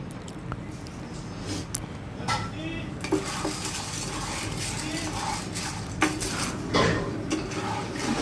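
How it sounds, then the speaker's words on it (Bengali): Small popcorn kernels tumble into hot soybean oil in a pan on a stove, giving near, clattery metallic rattles and scrapes with faint sizzling underneath. "তেলটা একটু হিট হয়ে গেলে এখন দিয়ে দিচ্ছি চিকন দানার ভুট্টা"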